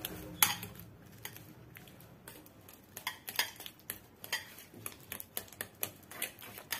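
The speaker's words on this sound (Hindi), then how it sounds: "मैंने एक बाउल लिया है, उसमें मैं केले को डाल दूंगी। मैं इसे मैश कर लूंगी।" Ripe banana being mashed in a bowl for an eggless cake, a series of close, quiet clicks and taps of a utensil against the bowl, speeding into a steady rhythm.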